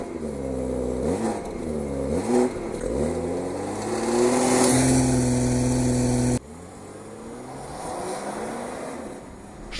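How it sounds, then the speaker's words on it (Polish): A BMW 540i xDrive G30 with its turbocharged inline-six climbs through the revs in repeated rising pulls, a strong close engine note with a muffled crack at the gear change, then settles to a lower steady drone. "Jednostka pięknie mruczy na wolnych obrotach, a podczas przyspieszenia rasowo wyje."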